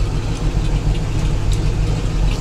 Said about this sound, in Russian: как Шишига заводится